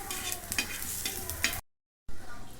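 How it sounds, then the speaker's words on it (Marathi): Onion frying in oil in a pan, with a steady sizzle and scraping stirs that cut off abruptly into brief silence before the sizzle resumes. "आता एक कांदा पण मी असं तेलामध्ये भाजून घेते"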